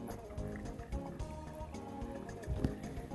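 Creek water at Death Canyon Creek on the Pacific Crest Trail is collected into a container, making close, soft trickling and dripping sounds with occasional splashy gurgles against flowing water.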